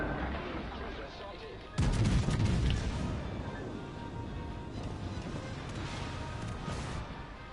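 Torpedoes from the Aoba cruiser in a naval combat video game, a sudden heavy blast of booming impacts that then settles into a sustained loud rumble of battle noise, with no talk.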